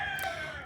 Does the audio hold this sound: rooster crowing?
yes